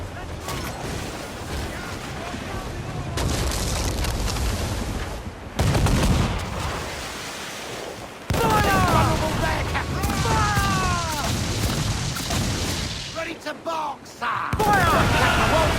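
Ship cannons boom in a naval battle in Assassin's Creed IV Black Flag, heavy repeated blasts and rumbling volleys under shouted crew orders, with bursts of gunfire and clattering mechanisms throughout.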